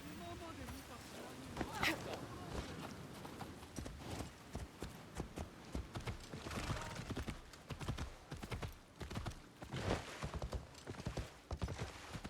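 Hooves clip-clop in a steady, unhurried rhythm as a horse walks through a town in Assassin's Creed Shadows, with someone talking over the hoofbeats for much of the time.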